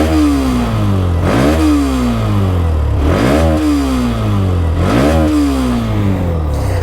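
A Hero Xtreme 125R motorcycle with a side-mounted exhaust, its 125cc engine revved three times from idle, each rev rising sharply and falling back, loud and close, with no voices.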